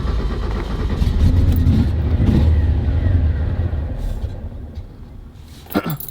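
A 1965 Porsche 356 C's engine revs and idles loudly while warming up after a rebuild from wreck damage, a steady close rumble that swells and eases before a brief knock near the end.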